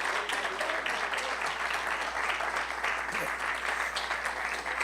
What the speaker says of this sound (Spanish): Dele fuerte esa ofrenda de palmas